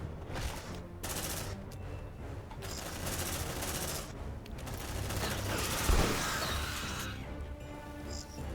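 Gunfire rings out in the video game Aliens: Dark Descent, with rapid automatic bursts in repeated volleys of moderate, steady loudness.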